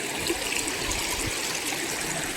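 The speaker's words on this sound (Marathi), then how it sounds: "गावच्या ओढ्याला पण लय जोरात पाणी चाललंय" A village stream in spate: fast-flowing water rushes and gurgles continuously, a dense, steady churn close by with no pauses.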